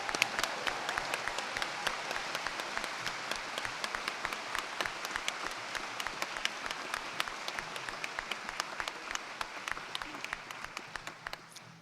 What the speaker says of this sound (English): And a big round of applause for the BEd and Sykes.